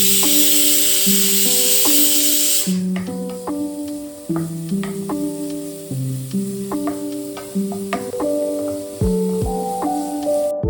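Masala-coated fish frying in a home kitchen pan, a loud broadband sizzle at first that soon drops under steady background music, with intermittent stirring clatter throughout.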